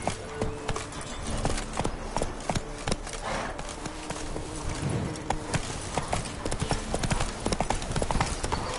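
Horse hooves clip-clopping in a quick, steady rhythm close by, with scattered thuds and faint background noise.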